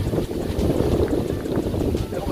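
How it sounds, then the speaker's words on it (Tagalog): Strong wind blows outdoors beside floodwater in a rural province, buffeting the microphone with a constant, loud rumbling roar while someone talks over it. "Lakas na naman ang hangin mga kabingwit"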